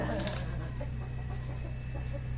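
A chicken clucks a few times close by over a steady low hum, with faint background noise.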